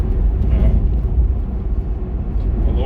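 A Corvette Z06 with an LS3 engine cruises with its mufflers open, a steady, loud low exhaust drone at around 1300 RPM, rumbling continuously without a break.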